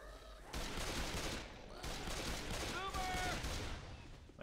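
Dense rapid gunfire in Left 4 Dead 2 Versus: two long sustained bursts of overlapping shots, loud and close, separated by a short gap, with faint tonal game sounds mixed in.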